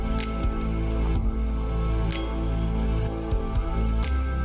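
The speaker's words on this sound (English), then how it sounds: "Gently mix this till it combines well with the masala." A spoon mixes drained rice and soya chunks with masala in a cooking vessel, giving soft squishy stirring with several sharp scraping knocks against the pot, close and steady throughout.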